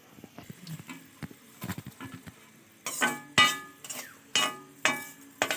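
Shredded fried potatoes for a festive-style jhuri aloo bhaja are lifted out of hot oil in a pan and drained, with sharp metal clinks and scraping taps that repeat at an irregular pace, growing louder and busier toward the end.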